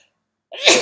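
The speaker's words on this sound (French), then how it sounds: "J'éternue parce que j'ai ouvert la fenêtre et dehors il fait beaucoup plus frais" A single sudden sneeze comes close and loud after half a second of silence, rising sharply from someone indoors beside a window opened to cool air.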